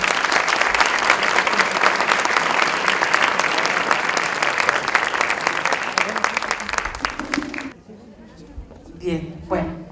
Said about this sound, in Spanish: Vamos a recibir con un fuerte aplauso a la doctora Rosa Inés Floriano Carrera.